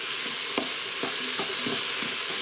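Carrots stirred around in a pressure cooker pot for a Portuguese Reisfleisch: several distinct scraping strokes about every half second over a steady low sizzle, close and clear with no talking.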